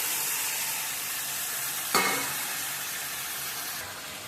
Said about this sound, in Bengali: মাছগুলো ঢেলে দিচ্ছি।